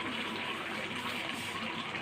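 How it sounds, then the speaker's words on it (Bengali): Water boils in a covered pot for cooking: a steady, dense bubbling rush close by, with no talk. "পানিটা ফুটে গেছে।"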